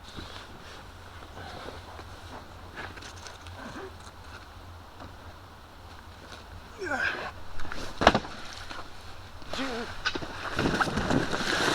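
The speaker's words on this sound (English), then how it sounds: "drop down into the Packraft, hopefully without falling in the water" Rustling, creaking and splashing as someone clambers into an Aqua Xtreme Alpha inflatable packraft on water, growing louder toward the end with a sharp thump.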